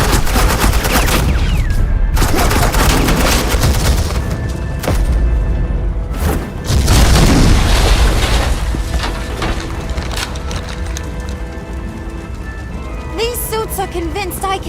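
Sustained suppressing fire in Batman: The Enemy Within as Agent Quinn's squad opens up: a steady, loud barrage of rapid shots and thuds runs for the whole stretch, with people speaking over the shooting.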